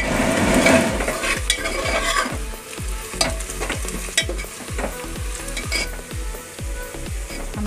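Onions frying in a pan for a mutton curry while a utensil stirs them. A steady close sizzle runs throughout under regular scraping strokes against the pan, with no talk.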